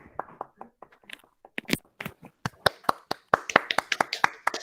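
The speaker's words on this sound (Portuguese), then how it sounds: "É isso, uma salva de palmas aí" Scattered hand claps from a few participants in an online meeting, sparse at first and then quickening into a thin, uneven patter; close-miked and choppy, with occasional faint speech.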